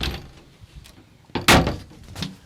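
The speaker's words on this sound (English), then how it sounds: "So we can actually close the shower door here." A shower door swings shut inside the walk-in shower of a Jeanneau Sun Odyssey 349 sailboat, with soft handling rattles before one loud, close thud and a lighter knock after it.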